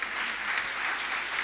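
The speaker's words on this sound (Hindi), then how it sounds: "एक बार तालियां थोड़ी सी बजाइए प्लीज।" Steady applause from an audience at a Hindi poetry recital gathering, a dense wash of clapping that holds evenly throughout without pauses.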